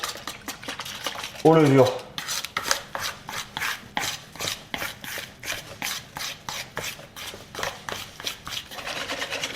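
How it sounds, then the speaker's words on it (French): Semi-wholemeal wheat flour is stirred into a yeast mixture in a bowl for tortilla dough, giving steady rhythmic scraping strokes close by, with a brief spoken phrase near the start. "Et on vient incorporer la farine avec le mélange"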